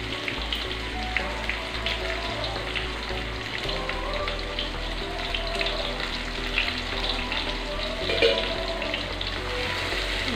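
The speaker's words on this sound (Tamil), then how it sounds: "லேசாக வதக்கிக்கலாம்." Onion with a little fennel sautéing in a pan for potato green peas masala gives a dense, steady crackling sizzle that fills the whole stretch, loud and close, with no speech over it.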